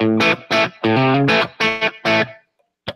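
Fender Telecaster electric guitar played on the back pickup through effects, with several distorted, sustained chord stabs in a choppy rhythm, ringing harmonics and a short final pluck after a pause.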